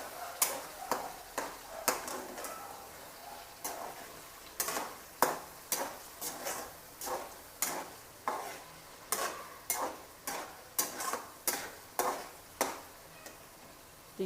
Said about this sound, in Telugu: చింతపండు కూడా వేసి ఒక్కసారి కలిపెడదాం